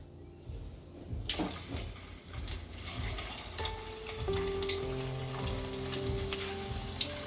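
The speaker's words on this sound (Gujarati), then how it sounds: "સબ્જીના વડા તૈયાર થઈ ગયા છે આને હવે તળી લેશું" Sooji vadas deep-fry in hot oil with a dense, crackling sizzle that builds and holds steady, close by, with faint clinks now and then.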